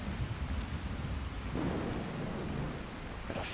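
Rumbling thunder over steady rainfall from a storm in Fallout 4, with a deep roll building partway through and lingering under the continuous hiss of rain, no voices.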